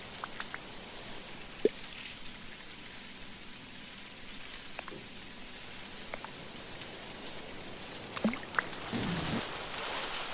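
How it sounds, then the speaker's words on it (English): Steady rain falling in the video game Dinkum, a continuous soft hiss with occasional brighter drop taps and a swell toward the end, with no talk over it. "something I really love in this kind of game is the rain sound"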